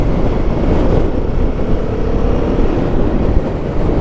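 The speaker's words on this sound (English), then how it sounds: "It's very windy" Strong wind buffets the microphone while riding a Royal Enfield Guerrilla 450 motorcycle, a continuous low, rushing roar that swells and dips unevenly.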